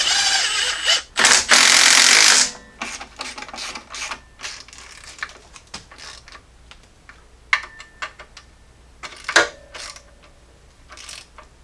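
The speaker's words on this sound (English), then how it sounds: "Tighten down, and then we can tighten down the rest of the bolts." A ratchet tightens bolts on the power steering pump bracket of a Jeep Cherokee XJ being rebuilt after a wreck, with a loud burst of fast clicking early on, then shorter irregular runs of ratcheting clicks and metallic taps.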